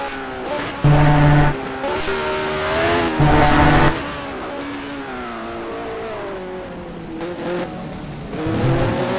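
A race car drifting sideways through corners in a historic sports-car race in Argentina: a loud engine drones and revs, with two sharp bursts of louder, harsher engine noise and a fluctuating pitch.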